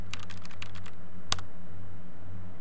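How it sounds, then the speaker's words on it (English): Quick clusters of keystrokes tap on a computer keyboard close up, a burst of rapid typing followed by a pause and one sharp final key press over a low steady hum. "Go ahead, type in what you're looking for."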